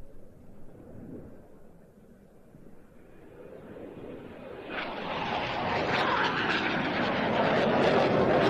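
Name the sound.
Italian Air Force T-346A Master jet flying display manoeuvre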